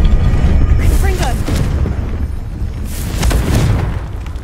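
Confringo spell explosion in Hogwarts Legacy: a loud, broad booming blast with a whooshing tail and a second rumbling burst later, over constant game background noise.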